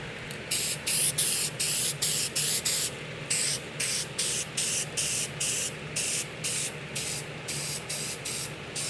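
Spray paint hisses from an aerosol can in a rapid series of short, even bursts, close and loud, with a fan blowing on the work.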